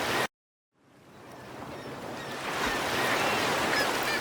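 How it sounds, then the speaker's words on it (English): Ocean surf wash added as a sound effect, rising from silence after a short cut into a steady, broad rolling roar of waves that grows louder and holds. "My idea for this video is to add the sounds of the ocean and the city."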